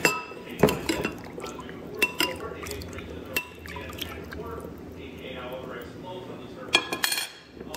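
Pans and utensils clink and clatter in a kitchen while chopped onion and garlic are drained from oil, with light dripping and a few sharp metallic chinks, close by, and voices talking faintly underneath.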